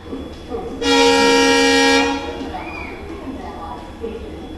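At Madgaon station, a Vasco–Secunderabad express train sounds a single loud, sustained horn blast of about a second as it departs, followed by low station rumble and background noise.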